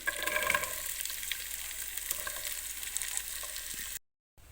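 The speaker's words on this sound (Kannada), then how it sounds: "ಈಗ ಇದಕ್ಕೆ ನಾನು ಈರುಳ್ಳಿ ಹಾಕ್ತಾಯಿದ್ದೀನಿ" Onions fry in a pan with green chillies and curry leaves for a sweet corn rice dish, a faint, steady crackling sizzle with occasional soft stirring ticks, close by and quiet.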